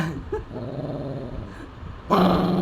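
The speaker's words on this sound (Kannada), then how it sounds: "ಇಲ್ಲಿ ಬಂದು ಬೊಗಳ್ತಾವಳೆ" A dog growls low and steadily at close range, then breaks into a loud, sharp bark at the end; no talking.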